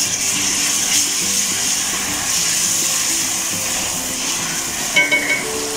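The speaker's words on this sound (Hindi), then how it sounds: "अब साथ ही मैं इसमें अदरक लहसुन का पेस्ट डाल दूँगी।" Chopped onions frying in a pan as ginger garlic paste is added, a steady soft sizzle with faint stirring and a few small clinks near the end.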